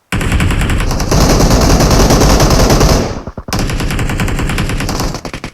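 Rapid automatic gunfire in the mobile game PUBG Mobile: loud, dense bursts of shots running almost continuously, with a brief gap before the firing resumes.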